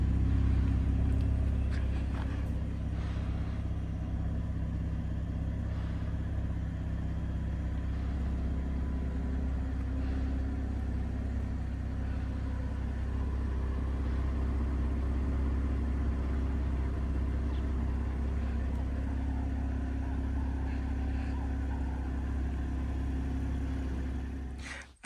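2024 BMW M440i engine and twin exhaust, a low steady rumble heard from the car at moderate distance, smooth and continuous without revving.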